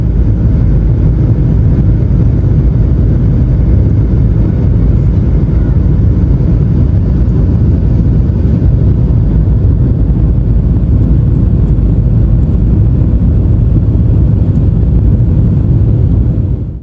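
United Boeing 737-924ER airliner on final approach to Newark Liberty runway 4 right, heard from inside the cabin as a loud, steady low engine and airflow roar that holds constant throughout, with no voices.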